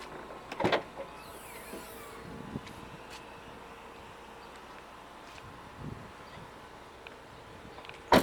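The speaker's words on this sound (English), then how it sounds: "electric windows on the back, electric windows on the front" Electric windows on a grey Renault Captur hum and whir faintly, with a few soft clicks and taps scattered through quiet background noise.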